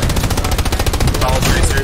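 Rapid machine-gun gunfire in Hell Let Loose during armored play, a loud, evenly pulsing rattle of closely spaced shots that thickens toward the end.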